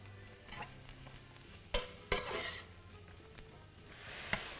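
Mushrooms sizzling in olive oil in a large pan, with a soft, steady fry under a couple of sharp clanks from stirring or utensil knocks, close and moderate in level, no talking.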